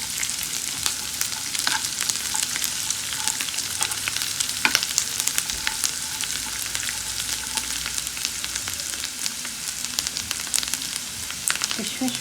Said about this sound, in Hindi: ये हम फ्राई कर रहे हैं ड्राई फ्रूट